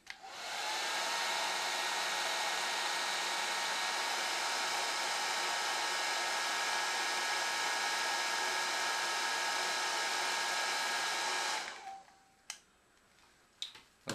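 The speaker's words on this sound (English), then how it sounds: "we're ready to attach some shrink tube, and I like to use red on the positive end to identify that clearly, and we'll heat that up and get it shrunk down" A heat gun blows a steady, loud whooshing rush for about twelve seconds while shrinking red heat-shrink tube onto a Zener regulator lead, then switches off, leaving a few faint clicks and handling noises.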